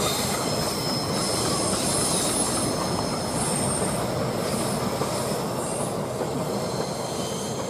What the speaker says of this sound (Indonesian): Keretanya, itu dia lokomotifnya kelihatan.